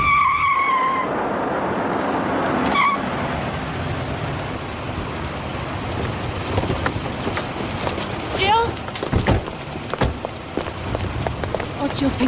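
A car skids on a wet, rainy road and nearly hits another car in a 1996 paranormal TV drama scene, with tire screech, rushing rain and engine noise mixed with music and sharp impact-like bursts.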